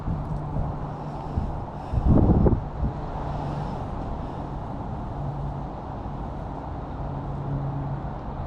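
Strong wind buffets the microphone at a fishing lake, a steady broadband roar with a low hum running through it and a heavier gust swelling briefly near the start.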